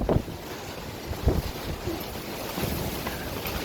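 Wind gusts buffeting a tent from outside, a steady broadband roar with a few louder bumps and flaps near the start and midway, no talking.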